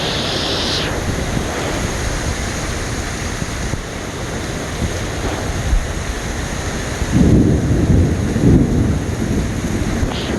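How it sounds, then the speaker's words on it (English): Strong gusting wind roars during a thunderstorm in Tampa, Florida, a steady loud rush that builds into heavier blasts near the end, with no voices. "Man, that wind is nuts."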